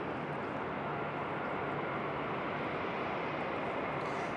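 Southwest Airlines airliner in special livery rolling for takeoff at Raleigh-Durham International, a steady loud broadband engine roar filling the whole stretch without pause.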